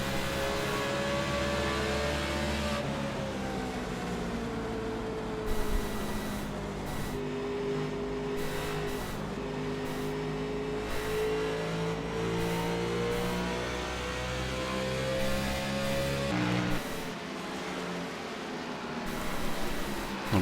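Race car engine heard from onboard during a lap, a loud sustained howl with pitch rising and falling through gear changes and a sharp drop near the end, alone without talk.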